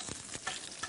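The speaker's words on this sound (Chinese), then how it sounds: "大料煎一煎" Star anise fries in a hot pan with a continuous crackling sizzle, broken by a few stirring scrapes, close and steady throughout.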